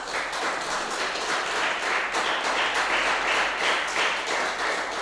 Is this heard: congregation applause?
yes